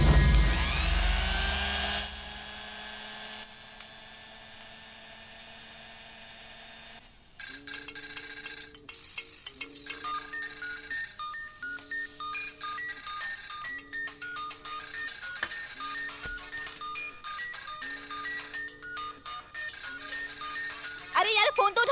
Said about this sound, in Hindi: अरे यार फोन तो उठा